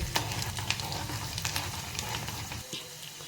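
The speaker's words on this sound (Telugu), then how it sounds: "పోపు ఇలా వేగిపోయింది, అంతకన్నా మాడితే అవి బాగుండవండి." Tempering of garlic pieces and asafoetida sizzles and crackles in hot oil for a tomato pickle, a soft continuous frying hiss with small pops, quiet and close, briefly fading near the end.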